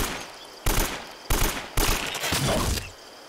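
Rapid automatic gunfire from the Uncharted: Drake's Fortune video game comes in three loud, close bursts in quick succession, each cutting off sharply, with no talk over it.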